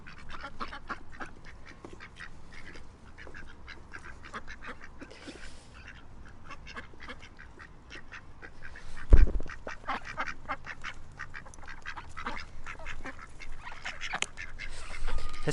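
Ducks quack repeatedly outdoors, a busy flock calling in quick bursts at moderate distance, with a louder close thump partway through and no talk.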